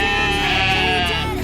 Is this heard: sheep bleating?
yes